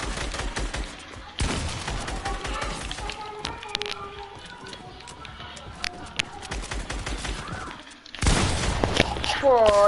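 Bursts of rapid gunfire in a video game event, loud volleys at the start and end with quieter scattered shots and game effects between, under excited talking.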